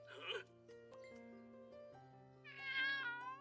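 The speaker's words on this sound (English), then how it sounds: "That's the cat we're looking for." A cat meows a few times in a cartoon scene, drawn-out tonal cries close and clear, with a brighter, wavering call near the end over a quiet music bed.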